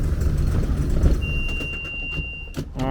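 An old boat engine that sat abandoned for six years runs during a propeller test, a loud steady rumble with a thin high whine coming in partway, then some knocking near the end.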